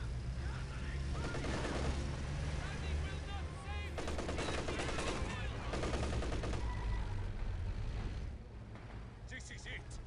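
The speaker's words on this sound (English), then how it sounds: "Machine guns are giving me help." Machine gun fire in Company of Heroes 2 rattles in dense, sustained bursts amid a busy battlefield din, with speech over it, easing off near the end.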